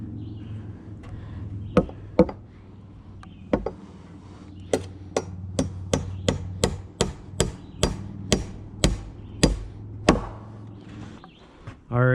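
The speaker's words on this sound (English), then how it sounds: "I'm gonna just drive a nail in there" Sharp hammer strikes on a nail driven into wood on a tiny house porch frame, a few scattered blows, then a steady run of evenly spaced hits, close and loud over a low background hum.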